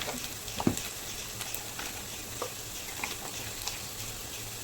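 Green chillies frying in hot oil for a Kerala mango pickle, a steady crackling sizzle with scattered pops and stirring scrapes throughout, close and moderately loud with no talking.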